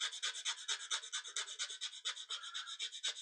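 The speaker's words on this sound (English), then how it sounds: "the only area that I haven't done is at the back here, and so I'll just go about sanding that down" Rapid back-and-forth sanding rasps against a foam model aircraft fuselage edge, shaping a bevel; quiet, close strokes in a steady, quick rhythm with no voices.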